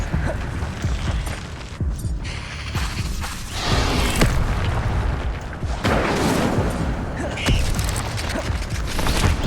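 Incendio fire spells cast over and over in Hogwarts Legacy, whooshing flare-ups and crackling bursts over heavy rumbling game effects and music, loud and close, with a voice calling out spell names.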